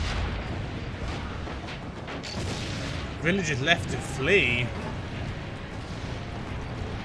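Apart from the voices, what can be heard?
cannon fire in video game Assassin's Creed Brotherhood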